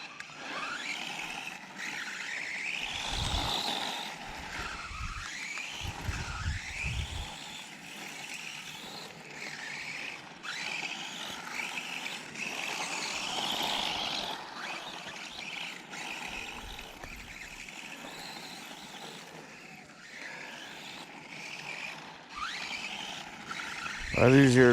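Electric RC car on a track fitted with grippier tires, its thin motor whine rising and falling as it accelerates and corners, fairly close, with someone talking over much of it.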